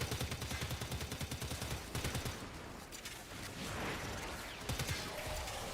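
A Stradivar gun with no mods fires in a video game, loud rapid bursts of shots in quick rhythmic volleys that pause briefly and then resume.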